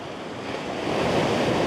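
Sea waves wash onto a rocky shore at Skateraw, a broad continuous roar of surf that swells louder toward the end, mixed with wind noise.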